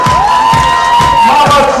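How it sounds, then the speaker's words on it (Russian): Spectators at a Vovinam martial arts demonstration cheering and clapping loudly, with shouts and whoops over rhythmic applause. "Друзья, поддержи наших спортсменов, аплодисменты, пожалуйста."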